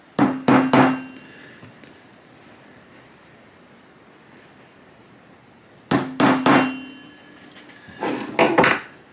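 Two bursts of sharp hammer taps marking HIPS plastic, three or four quick strikes each, ringing close by, separated by a few seconds of quiet background hiss.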